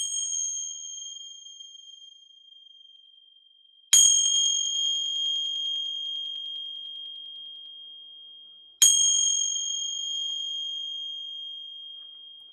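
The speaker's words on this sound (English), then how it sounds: "Gonna ring some bells here. They may be a little loud." Two bright metallic bell strikes several seconds apart, each ringing out with a long pure sustained tone and shimmering overtones that slowly decay in a quiet room.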